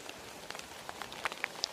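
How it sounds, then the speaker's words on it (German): Rain falling after a long drought patters softly as scattered drops tick and splash on a surface, faint and close, with no voices. "Der Regen ist da."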